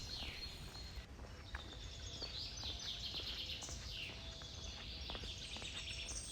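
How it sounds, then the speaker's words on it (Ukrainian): Birds sing steadily along a forest path, repeated bright descending chirps and warbles layered over a constant soft ambient hiss, moderately near with no speech. "Йдеш стежкою лісу, співають пташки і забуваєш про все, що тебе дома чекає."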